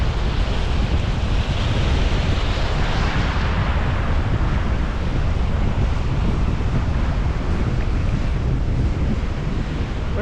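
Strong wind gusts across an open seashore during surf fishing for tailor, with steady crashing waves beneath, loud and continuous, buffeting the microphone throughout with no voices.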